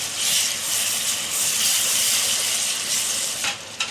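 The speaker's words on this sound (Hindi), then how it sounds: "अभी अदरक लहसुन डालेंगे, इसको भी अच्छे से भुनेंगे इसके अंदर।" Ginger garlic paste frying with onions in a pot for a chicken Afghani pulao, a loud, steady, close sizzle that keeps up throughout with a brief scrape near the end.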